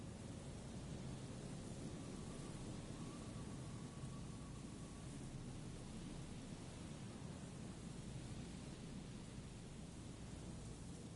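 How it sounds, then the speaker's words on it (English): A radio voice from a video game swamped by white noise, heard as a quiet, continuous wave-like hiss with rumbling low end and a faint tonal trace, no clear words. "Her voice is drowned in white noise. Sounds like waves."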